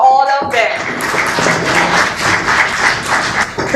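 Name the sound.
audience applause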